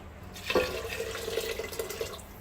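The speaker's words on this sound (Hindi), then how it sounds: "अब मैं इसके अंदर चिकन स्टॉक जो हमने मंदी बनाते हुए रेडी की थी वो डाल दूंगी।" Chicken stock pours steadily into rice for Arabian chicken mandi, a continuous close splashing trickle that starts abruptly and runs on at an even level with no talk.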